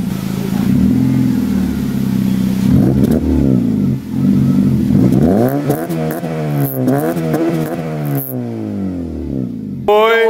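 A car engine revs hard several times, pitch sweeping up and down in loud surges, close by, with a brief pause before a final burst.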